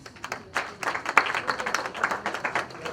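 Audience applause at a celebration of the International Day of the African Writer, a fairly faint, brief patter of clapping from a modest crowd lasting a few seconds.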